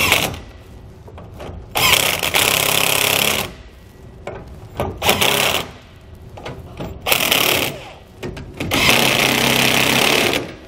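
A power tool runs nuts down on the suspension shackles of a Dexter heavy-duty tandem-axle trailer suspension kit, in several loud, rattling bursts of one to two seconds, each separated by short pauses, close up and with no talking.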